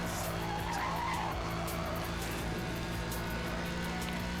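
A racing car's engine in the video game Need for Speed: Hot Pursuit drones steadily while its tires skid and squeal through a drift.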